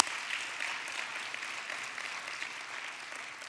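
Audience applause at the Do Good Challenge finals honoring the Hollister Foundation, a steady, dense wash of many hands clapping at moderate loudness throughout, with no talk over it.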